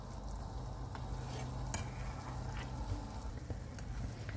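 Marinated pork ribs dropped into a pot of boiling water for Vietnamese gourd soup: a constant, fairly quiet bubbling and hissing wash with a few small splashes and clinks close by.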